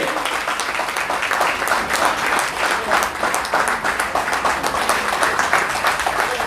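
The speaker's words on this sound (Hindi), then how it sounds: "कृपया जोरदार तालियों के साथ स्वागत कीजिए" Sustained applause from a sizeable crowd welcoming a guest at a family-association foundation-day gathering, steady and dense clapping throughout with no pauses, heard from within the hall.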